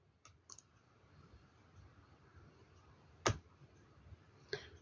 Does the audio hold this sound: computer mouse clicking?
yes